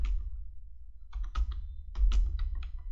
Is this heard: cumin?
no